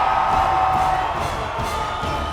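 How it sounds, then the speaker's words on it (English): A crowd at a Bassmaster bass fishing weigh-in cheers and whoops loudly, a dense roar of voices that holds steady for a couple of seconds before easing slightly. "The crowd exploded when they saw the results."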